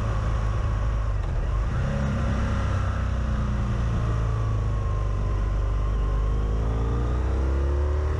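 Motorcycle riding along the B1039 country road between Barley in Hertfordshire and Wendons Ambo in Essex, a continuous low engine drone with rushing wind noise, the pitch rising and falling gently as the bike accelerates.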